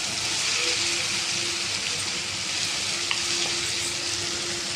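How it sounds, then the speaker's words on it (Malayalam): Masala sizzles steadily in a pan as it sautés toward a red colour for a squid fry, a dense, even frying hiss that carries on unbroken with no voices. "ഒരു ചുവപ്പ് കളർ വരെ ഒന്ന് വഴന്ന് വരണം."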